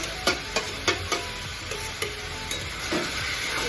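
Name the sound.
stirring food in a pan over medium heat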